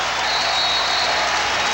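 A volleyball crowd at the Wisconsin Fieldhouse roars and applauds as it rises to its feet, a loud, dense, unbroken wash of cheering and clapping with no distinct voices.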